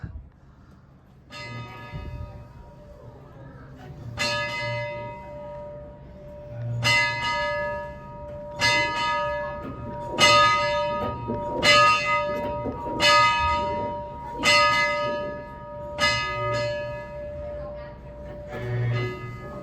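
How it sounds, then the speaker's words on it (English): A steam locomotive bell, Illinois Central Railroad number 790, rings in a slow, steady rhythm, about nine clear metallic strikes with ringing overtones, over low background rumble and faint voices at a railfest. "We're gonna go ahead and ring the bell for you."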